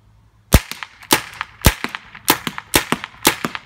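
Sharp, snappy shots ring out from a gun fired at a target, about nine cracks in quick, slightly uneven succession, loud and close with no talking over them.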